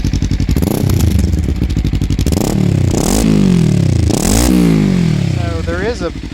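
A Kawasaki Versys X300 motorcycle fitted with a GPR aftermarket exhaust revs up close by, its engine climbing in two sharp rising bursts over a steady idle.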